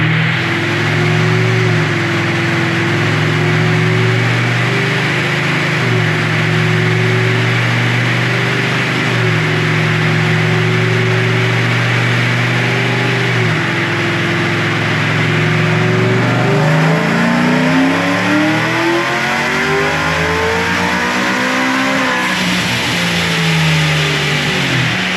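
A car engine on a dyno pull drones steadily at high load, then revs up and down sharply near the end; loud and close, with no talking.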